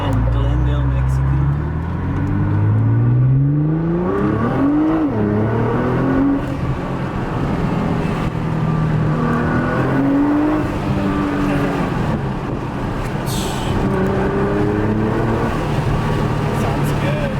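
A Nissan GT-R R35 engine with a 2.75-inch aftermarket intake revs repeatedly up and down nearby, loud and rising in pitch, with a deep intake roar and a voice talking underneath, on a street.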